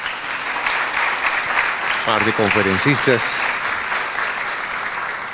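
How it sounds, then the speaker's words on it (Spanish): Audience applause at an international business law congress, a steady broadband clapping wash lasting throughout, with a brief stretch of someone speaking over it midway. "yo les pido un aplauso muy fuerte para esta"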